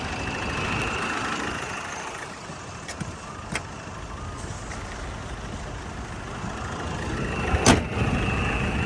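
A 2013 Mahindra Scorpio VLX SUV engine idles with a steady low rumble, joined by a few faint clicks and one sharp knock near the end.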